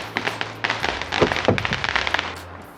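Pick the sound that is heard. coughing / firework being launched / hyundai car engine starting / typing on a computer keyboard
firework being launched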